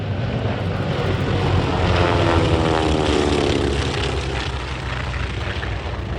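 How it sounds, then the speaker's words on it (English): World War II era propeller planes such as T-6s, T-28s and T-34s fly a heritage flight at a large airshow, giving a loud, steady, droning engine roar that fills the whole stretch with no talking. "they had a lot of these U.S. heritage flights, which were largely comprised of old World War II era prop planes"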